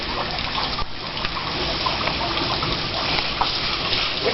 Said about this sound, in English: Can I hit him with water?